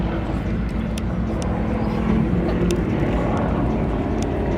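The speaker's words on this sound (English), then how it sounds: "The Yak-18T shows its aerobatic capabilities by pulling into a half Cubanate" A Yak-18T propeller aircraft flies aerobatics at an airshow, pulling into a half Cuban eight; its engine drones as a steady, broad roar throughout, fairly loud and unbroken.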